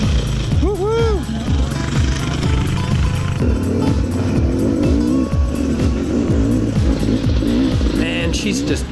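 A Beta cross trainer enduro motorcycle with stock suspension ridden over rough terrain, its engine revving and bouncing in rapid bursts, loud and close, while a rider speaks over the engine.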